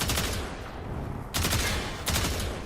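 Rapid burst-fire gunshots from the Tiberon Prime rifle in Warframe, three tight clusters of loud, sharp cracks spaced about a second apart, each burst trailing off briefly before the next; no speech.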